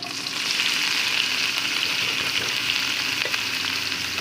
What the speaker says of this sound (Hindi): प्याज को हम इसके अंदर फ्राई करेंगे 2 से 3 मिनट लगाकर